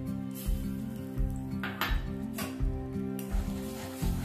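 Powdered milk is stirred into ghee and water in a pan, with rhythmic scraping and squelching strokes repeating about every half second over a soft background hum.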